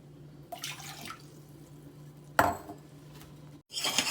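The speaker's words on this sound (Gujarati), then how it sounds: "હવે જે આ નાનો કપ છે એ દોઢ કપ પાણી ઉમેરીશું અંદર" Water splashes and pours into a bowl in a few short bursts, with quiet pauses between and no talking.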